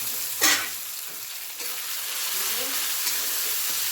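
Tomato tipped into a hot frying pan of cooked spice paste for a Bengali bottle-gourd stem dish, one brief splashy burst near the start and then a steady, fairly soft sizzle with light stirring, no voices.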